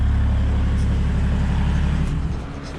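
A BMW M57 diesel engine fitted in an FJ75 Toyota Troopcarrier idles with a steady, loud low drone, and its rumble begins to shift and fade near the end.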